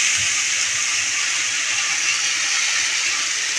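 Ginger garlic paste sizzles in a pan as a steady, close, bright hiss with no pauses, carrying on for several seconds without any talk over it.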